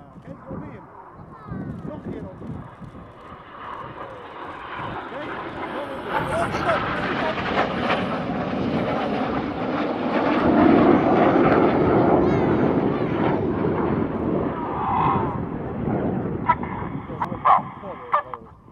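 Red Arrows jets fly a corkscrew aerobatic manoeuvre at an air show, their roar building to a sustained peak and then easing, with a commentator talking throughout.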